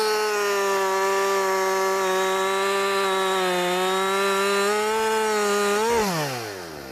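A chainsaw runs steadily at high revs, cutting into a tree with a wedge set in the kerf; its buzzing drone is loud and close, then dips and bogs briefly near the end.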